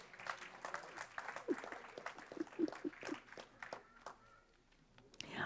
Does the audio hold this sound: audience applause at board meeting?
yes